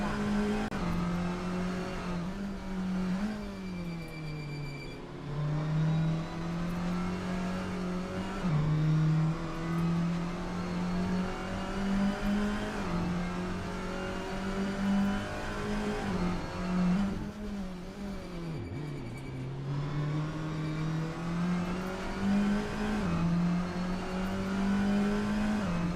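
Touring race car in a sim racing game, engine revving hard through repeated gear shifts as it pushes around the track, loud and continuous with rising and falling pitch, no voices.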